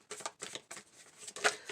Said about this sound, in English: Let's do a little shuffle here.